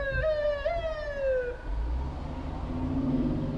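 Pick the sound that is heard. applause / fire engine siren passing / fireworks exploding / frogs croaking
fire engine siren passing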